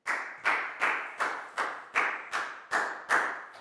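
Eight evenly spaced bursts of clapping from a classroom of Year 4 students, each sharp onset fading quickly before the next, loud and close with no talking.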